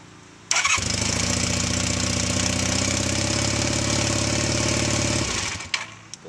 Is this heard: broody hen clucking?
no